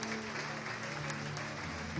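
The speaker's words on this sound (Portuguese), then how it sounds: "Vale um aplauso ao Senhor." Church congregation applauding during a worship service, a steady, dense wash of clapping from many hands that holds evenly for the full two seconds, with no voices standing out.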